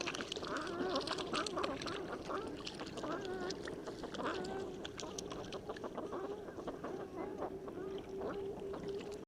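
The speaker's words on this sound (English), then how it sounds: "It is a rather large duck with a large head and massive build." A large, heavily built sea duck of northeastern Siberia and coastal Alaska gives repeated low, nasal calls. The calls are faint and fairly distant, set against a steady background wash, with no talk.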